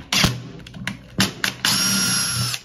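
A power drill whirs in short bursts near a wall toggle switch being removed, a couple of brief trigger pulls followed by a longer steady high-pitched spin, close and loud.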